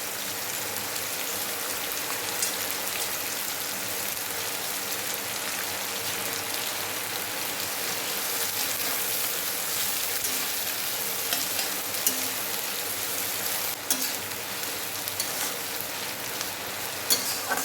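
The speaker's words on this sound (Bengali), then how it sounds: "কুচনো পেঁয়াজ আমি ভেজে নেব।" Two medium chopped onions fry in oil for a Bengali mutton kosha, a steady close sizzle with occasional stirring scrapes, no talking.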